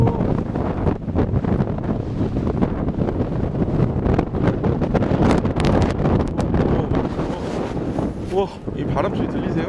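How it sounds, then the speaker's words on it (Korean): Strong wind at Jeongwang-dong in Korea roars and buffets the microphone as a continuous, loud, gusty rush that swells and dips throughout, with no clear words. "이 바람 소리 들리세요?"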